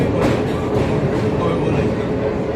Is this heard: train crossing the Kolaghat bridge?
yes